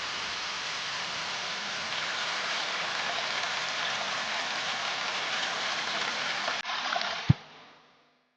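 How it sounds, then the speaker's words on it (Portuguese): The Véu de Noiva waterfall on a stream in Serra dos Órgãos, Brazil, gives a steady broad rush of falling water that holds evenly, then breaks off with a sharp thump near the end. "passamos por outro trecho desse córrego, onde um desnível na rocha possibilitou o surgimento de uma bela queda d'água"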